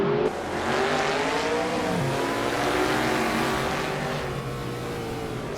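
A McLaren Formula 5000 race car in the Assetto Corsa racing game roars loudly and continuously at close range, its engine note holding, dipping briefly, then climbing again through gear changes, with no voices over it.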